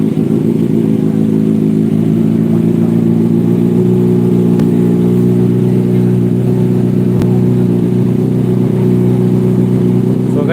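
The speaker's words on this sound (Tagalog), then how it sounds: "Ganyan po yung tunog ng ating" A Kawasaki Ninja ZX-6R motorcycle with an aftermarket exhaust idles and revs with a loud, steady throaty drone that holds close and constant throughout.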